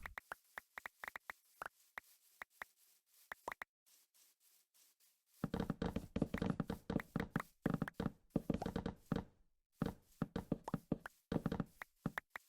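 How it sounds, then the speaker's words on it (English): Rapid wooden knocks from chopping wood in Minecraft, a steady run of sharp, evenly spaced taps that pauses briefly, then resumes denser and louder, alone without any voices. "it's just the wood chopping noise"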